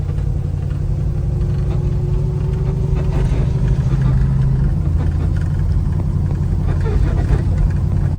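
A Camaro drives off with a low, steady engine rumble close by that holds a continuous drone with little change in level.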